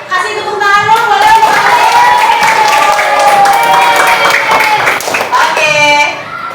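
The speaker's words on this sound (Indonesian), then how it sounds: "Kasih tepuk tangan dong, boleh?" Classroom applause from schoolchildren during a lesson, a dense, steady patter of many small hands clapping for several seconds, mixed with excited children's voices shouting and calling out over it.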